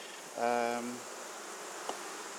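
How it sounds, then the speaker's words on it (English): A honeybee swarm fanning pheromone at dusk, a single close buzzing drone lasting about half a second, followed by a faint second buzz against a quiet background. "there's a fair amount of what's called fanning going on up here, which is them fanning the pheromone"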